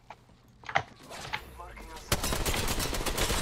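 Enemy gunfire in a video game, scattered shots at first, then a rapid, continuous burst of automatic fire, with a player talking over it.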